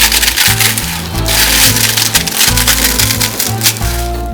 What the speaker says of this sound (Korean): 과자를 모두 손으로 으깨주세요.